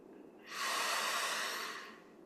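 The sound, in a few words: breathing in during a ceremony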